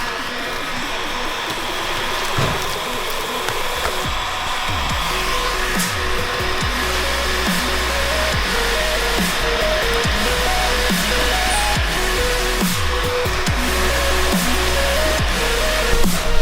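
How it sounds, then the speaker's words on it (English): A heat gun blows hot air steadily while shrinking window tint film on a car's front windshield, a continuous close, loud airy roar with a low hum, holding even throughout with no talk. "making sure that your heat gun's nice and warm. So that way it's blowing out hot air"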